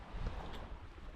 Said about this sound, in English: the wind is blowing its ass off